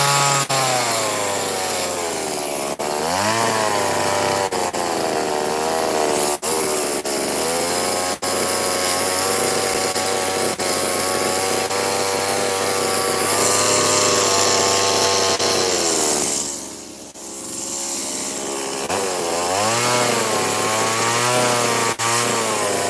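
A chainsaw carves a small wooden bear, running loud and steady throughout with the engine pitch rising and falling as it cuts, easing off briefly near the end before revving back up.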